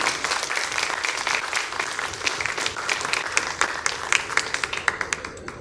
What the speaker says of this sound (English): let's give a little bit of applause again to our 3 tremendous candidates